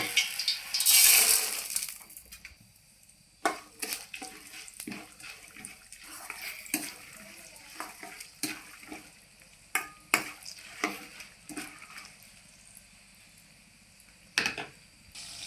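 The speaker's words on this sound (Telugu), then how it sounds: "ఇప్పుడు ఈ పోపు వేసేసుకుందాము." Bursts of crackling and popping from tempering spices hitting hot oil, with scattered sharp clicks and stirring scrapes over a quiet background.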